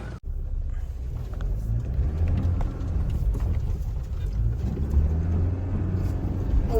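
A Mahindra Scorpio drives along an off-road track, its engine a low steady rumble with bumps and rattles over rough ground after a sharp knock at the start.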